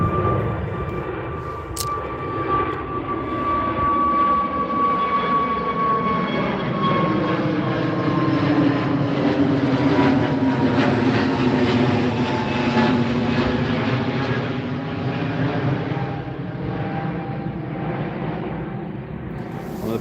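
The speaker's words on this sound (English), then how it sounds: "British Airways 777-200s lined up on runway 26 left, ready to go." A British Airways Boeing 777-200 taking off from runway 26 left at London Gatwick: a loud, continuous jet engine roar with a steady whine, its tones slowly shifting as the aircraft passes, heard from nearby with no talk.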